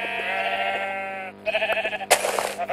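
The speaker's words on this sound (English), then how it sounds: "Sheep!" Sheep bleating in a Minecraft-style video game, a long wavering bleat followed by another shorter one and a burst of game noise, loud and near.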